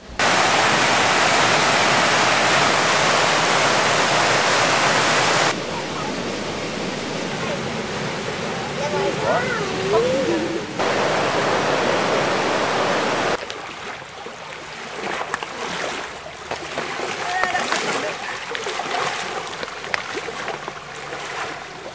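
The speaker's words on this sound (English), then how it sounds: "The river is brown and quite fast" A fast-flowing brown river rushes steadily at a water mill after its level has dropped, a loud, continuous wash of water noise that shifts in intensity across several sections, with bird chirps and faint voices in places.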